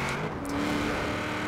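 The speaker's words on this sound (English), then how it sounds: "My car sounds better than yours." A Chevrolet Nova engine in Forza Horizon 4 holds a steady, sustained drone with a faint whine on top, brief and moderately quiet.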